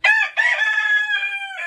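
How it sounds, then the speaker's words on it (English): A farm chicken gives a short, loud, drawn-out squawking call lasting under two seconds, close to the microphone, with no talking over it. "Molly tracked down this chicken for me"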